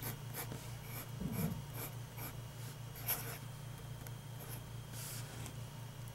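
A 1930 Wahl Eversharp Gold Seal Decoband fountain pen scratches across paper in steady, close strokes, with short raspy bursts against a constant low hum in the room.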